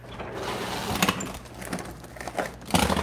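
A Breville Barista Pro espresso machine runs a dummy shot, its pump droning with a buzzing, rattling vibration that swells and eases, with a louder surge near the end.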